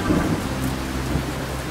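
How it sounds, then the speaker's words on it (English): Steady outdoor rain with a low rumble of thunder, a dense even wash that holds at the same level throughout the short stretch, with no voices over it. "Whoa, it's really rainy outside."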